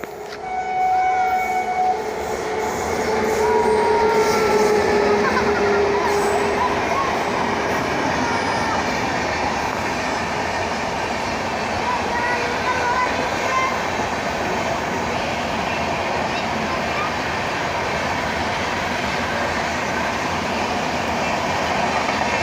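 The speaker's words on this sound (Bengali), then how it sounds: "গাইস এসে পড়েছে ট্রেন।" A train rolling into a small station in Bangladesh, with a steady broadband rumble of wheels and carriages that swells early and holds loud throughout, and a faint horn tone near the start.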